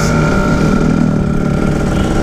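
A two-stroke motorcycle engine revs loud and close, a steady buzzing drone that holds throughout without a break.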